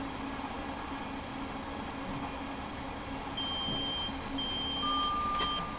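Driver safety device buzzer in a Class 707 train cab on the South West Main Line in Train Simulator, giving steady tonal beeps over the low hum and rumble of the moving train.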